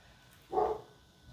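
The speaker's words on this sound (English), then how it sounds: "the dogs are barking." A single short dog bark rings out at moderate distance, brief and fairly soft against a quiet background.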